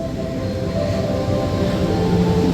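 Economy-class KA Brantas passenger train at Semarang Tawang station, a loud, steady rolling rumble of railcars that fills the whole moment with no horn or talk.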